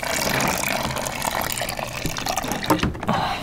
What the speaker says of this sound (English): I can walk to the sink and fill it up faster.